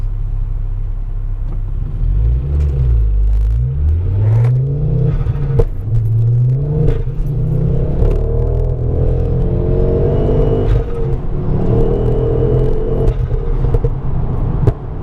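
A car engine revs hard and loud, its pitch climbing and falling through repeated accelerations under a constant low rumble.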